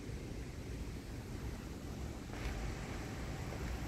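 Wind outdoors in southeastern Pennsylvania ahead of a severe thunderstorm, a steady, loud rushing roar buffeting the microphone with only slight gusts, and no other sounds.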